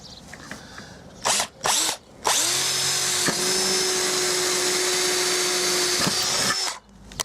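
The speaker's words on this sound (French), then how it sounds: "Ok, donc là maintenant on va percer le trou." A power drill bores a hole into a post of an NFI bioclimatic pergola, starting with a few short bursts, then running steadily and loud for about four seconds with a whining motor before stopping.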